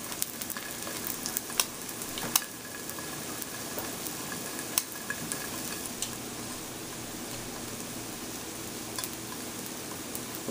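French toast toad-in-the-hole fries in a pan, a steady close sizzle and crackle with occasional sharp pops, alone without talk.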